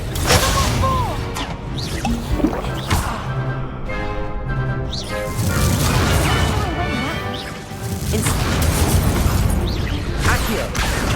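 Confringo explosion spells from Hogwarts Legacy burst with repeated smashing, crashing blasts and whooshes, loud and close, layered over a dense, continuous musical score throughout.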